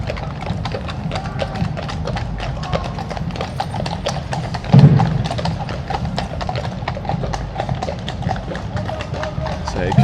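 Horses' hooves clip-clop at a parade rehearsal for the King's coronation, a loud, continuous clatter of many shod hooves on the road, with a short snort or whinny midway.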